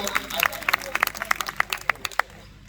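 An audience at a Hindi poetry gathering (kavi sammelan) claps in a sparse, uneven patter, with distinct individual hand claps standing out over a background murmur, then trailing off into near quiet.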